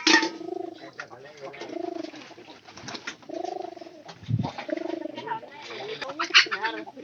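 Pigeons kept in a coop coo close by in repeated low, rounded, throaty phrases, with a person talking in the background and a few brief rustles and knocks between calls.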